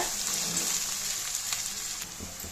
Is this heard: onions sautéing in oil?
yes